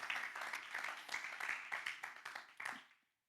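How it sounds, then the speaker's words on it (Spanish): A church congregation claps in a quick, rhythmic burst of bright, uneven handclaps for about three seconds before stopping abruptly. "Dale un aplauso al Señor."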